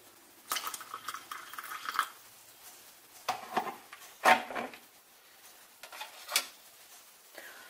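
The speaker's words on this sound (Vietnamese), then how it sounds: "các bạn dùng muỗng để khuấy đều lên" A metal spoon stirs instant coffee in a cup, giving a few scattered clinks and scrapes against the sides with quiet gaps between them, close by and with no talking.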